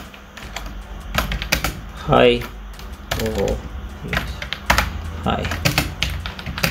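Close, rapid clicking of keys on a computer keyboard runs throughout while a person talks over it, with uneven bursts of keystrokes.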